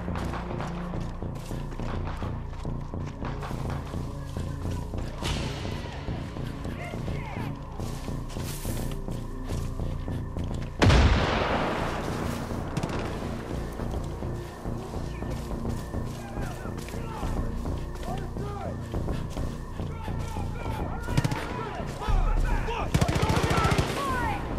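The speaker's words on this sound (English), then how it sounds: "We got trouble up top. Sounds like shooting." Gunfire in the video game Far Cry 5: rapid machine-gun bursts and single shots crackle throughout, with a heavy boom near the middle and voices speaking over the shooting.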